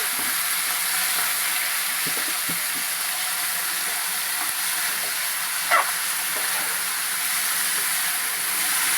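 Potato and carrot pieces fry in an oil-filled pan with curry leaves, giving a steady broadband sizzle that stays even and close throughout, with a brief sharper crackle partway and no talk.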